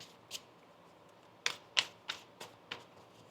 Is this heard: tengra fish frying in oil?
no